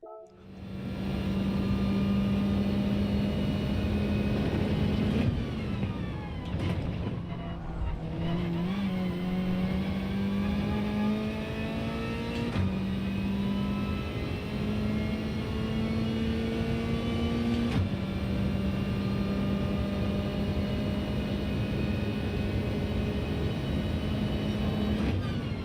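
A race car engine is pushed to full throttle and revs hard for a long stretch, a loud, sustained drone that rises and falls as it shifts. No voices are heard.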